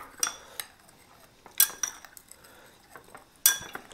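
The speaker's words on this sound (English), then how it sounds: "And while this is melting, we're going to kind of set this off, and I'll keep stirring it here." A spoon clinks and scrapes against a bowl while stirring chocolate melting in butter, three sharp metallic taps spaced a second or two apart with soft scraping between, close and alone.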